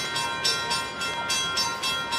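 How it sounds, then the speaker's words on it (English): Amtrak passenger train 314 arriving at a station, with a steady rolling rumble and rhythmic bursts of clatter repeating about every half second. "Amtrak train number 314 is now arriving"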